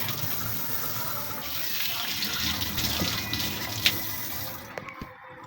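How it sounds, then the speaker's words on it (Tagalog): A leaking kitchen sink faucet keeps water running in a steady gushing stream into the basin, fairly close, then the flow cuts off near the end. "kahit na kasarado yung gripo niya, tumatagas pa din"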